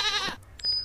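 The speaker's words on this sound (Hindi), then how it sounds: "यहाँ पे जो चिड़ियों की चहचहाने की आवाज़, बकरियाँ जो बोल रही, वो बहुत ही प्यारा लगता है गाइस" Goats bleat in the village farming game Meena, one wavering bleat up front followed by shorter higher calls and a thin tonal chirp, close and clear with no talking.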